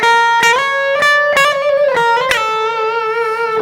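An electric guitar plays a short melody in the Phrygian dominant scale with an Egyptian flavour, loud and close: a few picked notes with bends, ending on a sustained note.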